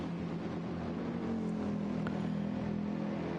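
A racing car engine in a racing video game roars at sustained high revs, a steady, meaty, full-throttle drone heard fairly faintly and without pause.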